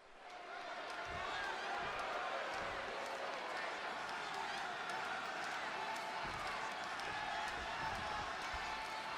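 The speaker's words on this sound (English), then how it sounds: "And just listen to this crowd here in Chicago." Chicago arena crowd in the WWE 2K26 video game, a steady dense roar of cheering and chatter holding loud and unbroken throughout, with a commentator's voice over it.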